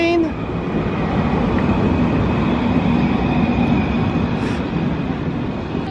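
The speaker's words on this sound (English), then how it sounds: "Train!" A train rolls past at close range in the Pier 2 Art Center area of Kaohsiung, Taiwan, a steady, loud rumble of rail noise filling the whole stretch without pause.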